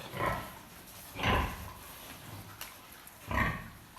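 A purebred Landrace boar piglet at a pig market gives three short grunting squeals, spaced a second or two apart, fairly close but not loud, over a quiet background.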